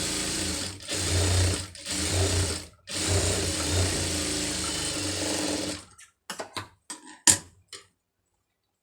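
A sewing machine runs in steady bursts while stitching a border onto a puff sleeve, its motor whirring loud and close for about six seconds with brief pauses, then a few short clicks and taps.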